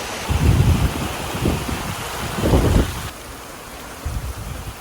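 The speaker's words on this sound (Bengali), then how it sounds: "বৃষ্টি তো শুরু হয়ে গেল প্রচুর বৃষ্টি হচ্ছে" Heavy rain pours steadily in a dense hiss, with low rumbling gusts swelling and fading a few times.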